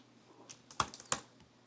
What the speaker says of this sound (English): I think I might just be typing the link in wrong